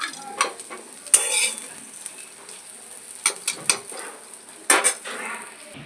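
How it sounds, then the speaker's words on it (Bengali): Bitter gourd slices fried until browned in a pan, with light sizzling under intermittent sharp scrapes and clinks of a spatula against the metal, close and moderately loud. "এখন উচ্ছেগুলো লাল করে ভেজে নিয়েছি, এখন নামিয়ে নেব।"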